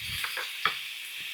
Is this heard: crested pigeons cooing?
no